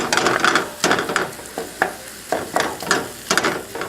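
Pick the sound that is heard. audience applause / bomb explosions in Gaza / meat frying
meat frying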